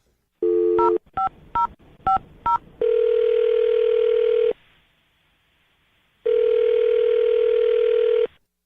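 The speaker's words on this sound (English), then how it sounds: "we're going to dial her number right now" A telephone plays a short tone, then a run of six quick touch-tone dialing beeps, followed by two long steady ringback tones separated by a pause of silence.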